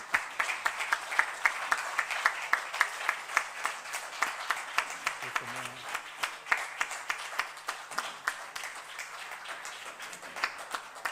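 Audience applause after a lecture on the history of writing, from Altamira to emojis, at Koldo Mitxelena Kulturgunea: sustained dense clapping from a crowd, steady and fairly loud throughout, with a brief low murmur partway through.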